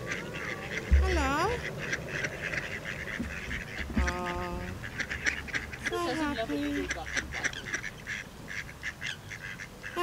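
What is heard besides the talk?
ducks quacking by a watermill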